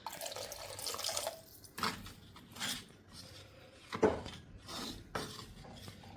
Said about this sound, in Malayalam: അപ്പോൾ കുറച്ചുകൂടിയും വെള്ളം ഒഴിക്കുന്നുണ്ട്.